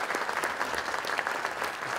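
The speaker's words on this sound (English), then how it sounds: "I was just getting you some applause." Audience at a Kiwanis workshop in Geneva applauds steadily, a dense, even wash of clapping hands that holds for the whole stretch without a break or any voices over it.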